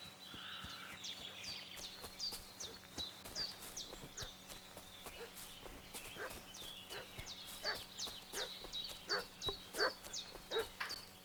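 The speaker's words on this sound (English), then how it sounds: "What's that dog making such a fuss about?" Dog in Kingdom Come Deliverance 2 barks and yips repeatedly in an uneven, agitated rhythm, the fussing growing louder toward the end, with birds chirping faintly in the background.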